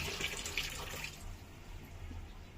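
Water from a kitchen tap runs steadily into a sink as taro stolons are rinsed, a close splashing hiss that thins out partway through.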